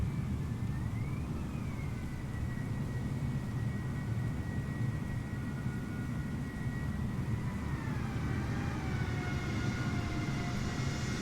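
An Airbus A320 arriving in Microsoft Flight Simulator, a continuous low jet engine rumble with a thin whining tone that shifts pitch as the aircraft comes in.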